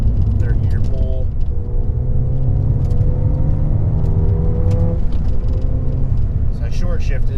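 Ford Fiesta ST fitted with a short shifter pulling hard in third gear on a road, engine note rising steadily and loud from inside the cabin.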